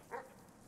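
A single short dog bark or yip from the video game Animal Well, one quick faint burst near the start followed by quiet.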